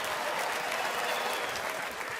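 An audience at a stand-up comedy show claps steadily, a dense, even wash of applause with no voices on top.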